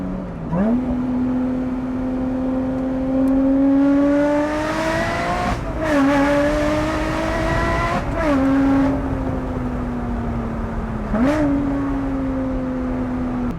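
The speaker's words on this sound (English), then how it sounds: "as you can hear, the exhaust is a little bit fruity" A purple 460hp Lotus Exige sports car engine revs up and settles repeatedly, its exhaust droning loud and close with rising and falling pitch between throttle blips.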